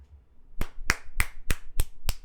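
Six sharp hand claps ring out at an even pace, close and distinct against a quiet background.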